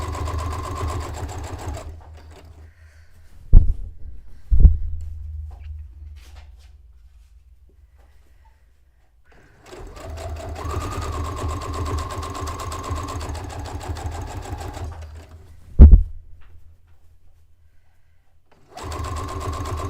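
Sewing machine stitching three layers of fabric together for a cone-shaped cape, two runs of steady mechanical whirring separated by a quiet gap, with a few sharp clunks in between.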